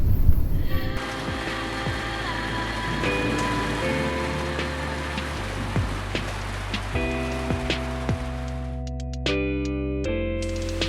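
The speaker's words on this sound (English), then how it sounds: "It was raining heavily most part of the morning." Steady, heavy rain hisses throughout at Erskine Falls, Australia, with a soft tonal melody playing over it.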